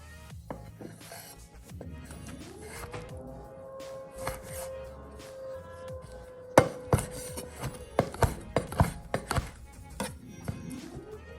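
Knife chopping sun-dried tomato on a board for an avocado toast with tuna, a run of sharp rapid taps in the second half after a quieter stretch with a faint hum.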